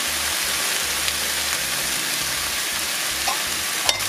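Diced onions and tomatoes sautéing in a hot pan for a vegan ackee dish, a steady close sizzle and crackle running throughout with a couple of faint utensil clicks near the end.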